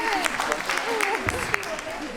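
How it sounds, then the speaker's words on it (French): An audience claps for a comedian at a comedy festival, light scattered applause with a voice talking over it throughout. "Vous pouvez m'applaudir, hein."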